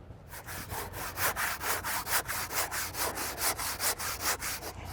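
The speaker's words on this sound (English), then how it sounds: "it's as simple as using a basic handsaw. It'll cut through the Hebel quite easily. It's aerated concrete." A basic handsaw cuts through a Hebel aerated concrete block in steady, rapid back-and-forth rasping strokes, close and fairly loud, with no talking.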